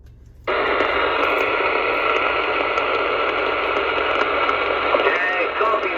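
CB radio in a mobile station during long-distance contacts, giving a steady loud hiss of static that begins abruptly after half a second, with a weak, barely readable transmission buried in the noise.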